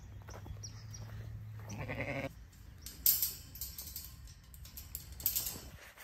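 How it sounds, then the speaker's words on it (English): Sheep bleat in a pasture as the flock is turned out, several loud calls rising over a quiet outdoor background, with a lower sustained bleat early on and sharper cries later. "So let's go check in on the baby rams. And turn the other sheep out into the pasture."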